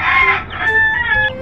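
A rooster crows close and loud, a strained drawn-out call followed by short clucking notes, with no one speaking over it.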